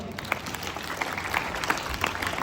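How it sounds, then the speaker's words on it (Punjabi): Audience at a government school applauding the drama team after a seventh-grade class play, a steady crowd of hands clapping throughout, fairly close and continuous with no talk over it. "ਸੋ ਇਸ ਸਾਰੇ ਟੀਮ ਦੇ ਨਾਮ ਦੀਆਂ ਤਾੜੀਆਂ ਮਾਰੋ"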